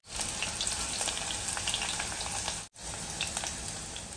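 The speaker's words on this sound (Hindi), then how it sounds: "तो बाकी की भिंडी भी फ्राई कर लेंगे।" Okra (bhindi) frying in a kadhai of hot oil gives a dense, steady sizzle and crackle, close and fairly loud, with a brief break near the end.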